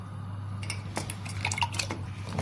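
Cut potatoes go into a casserole pot of water with light clinks of metal and soft splashes and drips, close up over a steady low hum.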